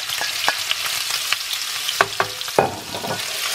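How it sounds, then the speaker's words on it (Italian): Italian sausage browns in plentiful oil with a bright, close sizzle, punctuated by sharp clacks and scrapes of stirring against the pan. "Abbiamo fatto rosolare la nostra salsiccia."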